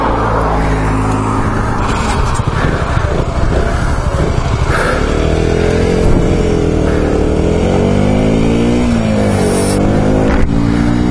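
A 2014 KTM Duke 125 naked bike revs loudly and close, its engine note climbing and falling in repeated sweeps as the rider works the throttle.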